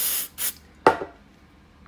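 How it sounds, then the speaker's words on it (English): Short hissing bursts of spray lubricant hit a single 4-gauge wire connector during a bulkhead install, three quick close sprays with quiet gaps between. "give it a little spray"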